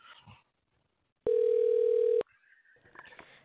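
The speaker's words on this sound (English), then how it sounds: "Let's see here. It's dialing." A telephone tone sounds as a call is placed on a radio call-in show: one steady, loud tone lasting about a second, with brief faint talk before it and quieter line noise after.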